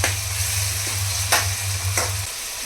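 Food cooking in a pan in a home kitchen, a steady sizzle with a few scraping stirs and a low hum underneath that stops near the end; no talking.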